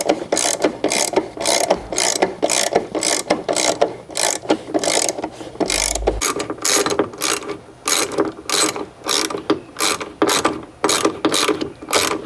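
Ratchet clicking steadily in rapid bursts while bolts are tightened during a Chevrolet Silverado seat belt repair, close and loud, with a brief low thump midway and no talking.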